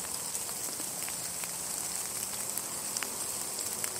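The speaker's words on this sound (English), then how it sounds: "It's got a little rain cloud coming through here." Light rain falls steadily outdoors as a passing shower moves through, a soft continuous patter with scattered individual drop ticks, no voices.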